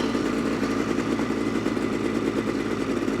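A 2026 Ski-Doo full-size snowmobile engine idles steadily and close, a continuous even rumble with a slight whistle, no talking over it.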